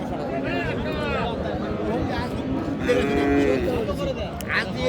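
Cattle, including dry cows and heifers, moo repeatedly amid a busy livestock market crowd at Raniganj, with people chattering and calling out close by throughout.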